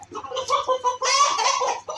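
Sussex chickens cluck close by in a coop, a quick series of squawky, chattering calls overlapping each other, loud and near.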